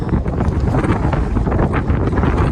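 Strong wind buffets the microphone on an exposed ridge of Trinchera Peak in Colorado's Sangre de Cristo Mountains. A loud, steady, low roar continues without a break, and no voices are heard.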